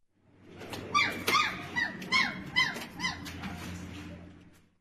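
High-pitched whimpering and squeaky yelps from trapped puppies and their mother at a construction site in Erzurum, Turkey, several overlapping cries rising and falling, fairly close.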